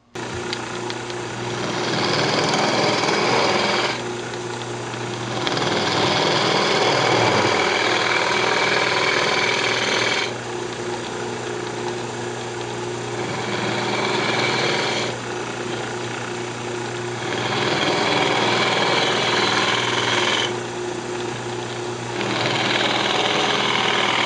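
A lathe spins a maple burl box while a round nose scraper hollows the inside, giving a steady motor hum with repeated rougher cutting passes that come and go every few seconds. No one speaks.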